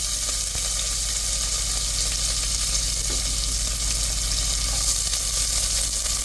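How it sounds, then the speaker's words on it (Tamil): Onions sizzle in hot oil tempered with fenugreek for mutton nonbu kanji, a steady, loud frying crackle running throughout without a break, with no voices. "தாளிச்சிட்டு இந்த வெங்காயத்தை போட்டுக்கணும்"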